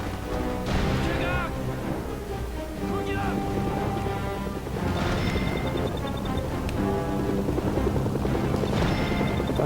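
A North Korean helicopter in the Mercenaries video game drones steadily with a thick rotor and engine rumble, overlaid with game sound effects and a person talking throughout.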